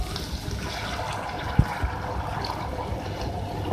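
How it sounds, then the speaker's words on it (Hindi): Water poured from a glass into fried minced beef keema in a cooking pot, a steady close splashing and gurgling that continues throughout with no talk. "मैं इसमें पानी ऐड कर रही हूँ ताकि ये गल जाए।"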